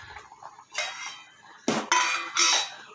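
A lid comes off a pot of bread pudding with a few sharp metallic clanks and clinks, the strongest strikes bunched in the last second and a half after a quiet start.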